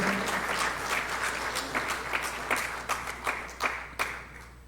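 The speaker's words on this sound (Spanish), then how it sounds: "Saludamos con un fuerte y caluroso aplauso esta alta distinción que se le otorga al gran maestro del derecho, José Palomino Manchego." Audience applause at a law association award ceremony honoring a legal scholar with a medal, a dense round of clapping that thins into a few louder, separate claps toward the end.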